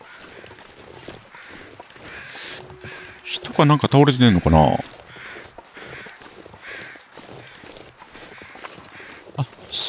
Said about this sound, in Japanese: あそこにカラスがいてんな。